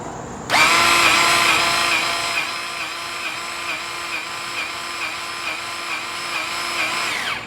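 Grease pumped into a trailer axle bearing with a powered grease gun, a loud close motor whine that starts suddenly and holds steady for about seven seconds before stopping, no talking.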